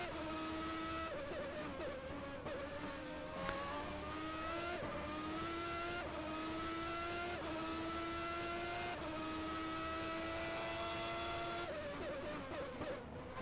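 Ferrari and Benetton Formula 1 cars race in a video game, their high-pitched engines whining steadily and climbing through gear after gear, loud and continuous with no talk.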